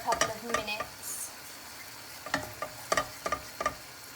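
Butter and flour roux cooking in a pan while being stirred, with quiet sizzling under intermittent scraping strokes of a utensil, close and fairly faint, no voices.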